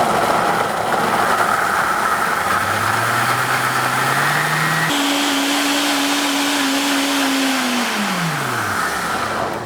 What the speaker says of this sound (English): we're gonna blend this on high speed until it's nice and smooth and creamy